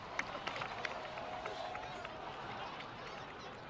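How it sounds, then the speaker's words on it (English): Steady crowd applause rises from an audience honoring heroes in a Genshin Impact cutscene, a continuous bed of fairly even clapping with scattered sharper claps, moderately distant and uninterrupted. "So, please give another round of applause for them."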